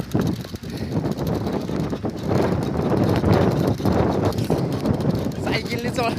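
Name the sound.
strong wind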